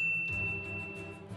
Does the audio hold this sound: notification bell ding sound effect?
yes